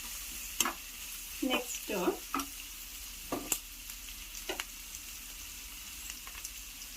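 Vegetables for egg fried rice are stirred in a pan at low volume, with a soft sizzle and intermittent scraping strokes, and a brief voice is heard.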